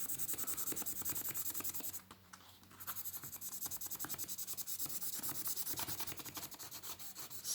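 Blue pencil scratching steadily around a shark stencil on paper, close and continuous with a brief pause midway; no talking.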